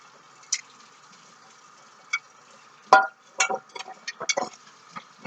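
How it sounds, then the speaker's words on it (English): Squeaks from a clean dish being rubbed while washing by hand at a sink, a handful of short, sharp squeals in irregular bursts over faint running water, close and fairly quiet. "You hear the squeaky sound?"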